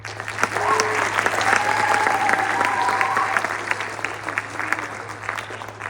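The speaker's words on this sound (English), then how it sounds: "let's go ahead and give all the people a round of applause." Audience applause fills a hall at a junior high jazz band concert, steady crowd clapping sustained throughout, with some voices and a low electrical hum underneath.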